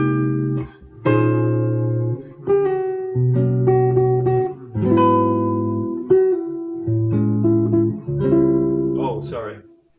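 A string instrument plays through a tune close up, with sustained, resonant notes moving in melodic phrases and short gaps between them.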